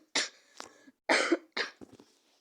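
A young woman with a cold coughs three times in harsh, close bursts, followed by a couple of softer throat-clearing sounds, in a quiet indoor room.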